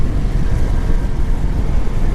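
A Kawasaki Vulcan 750 motorcycle engine pulling hard up a ramp in low gear, a loud close rumbling roar with wind buffeting throughout the short burst.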